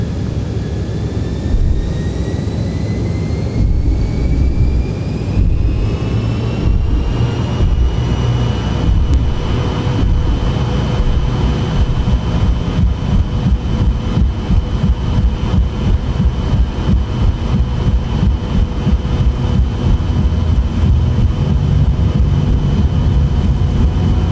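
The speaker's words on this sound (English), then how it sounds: "Gonna start to turn up our throttle here." Airliner jet engines spool up for takeoff in the X-Plane 11 flight simulator on a Los Angeles runway, a loud continuous roar with rising whine tones that climb and then hold steady.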